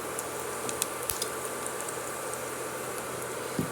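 Cumin seeds sizzle in hot mustard oil in a wok, giving a steady quiet frying hiss with small scattered pops and crackles.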